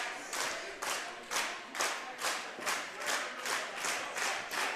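A wrestling crowd claps in a steady rhythmic beat, about two claps per second, broad and roomy, filling the arena with no cheering standing out.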